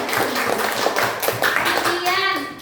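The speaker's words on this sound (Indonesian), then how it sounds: "Tepuk tangan dong" Schoolchildren in a classroom clap together in quick, fairly loud bursts while children's voices chatter over the clapping.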